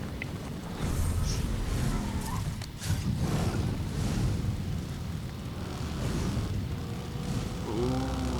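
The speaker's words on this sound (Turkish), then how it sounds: "Benim paraşütümden arabanın sesi geliyor." Parachute gliding in Fortnite during a ranked match, a loud continuous rushing roar of wind resembling a car engine running, sustained throughout with brief dips and no speech over it.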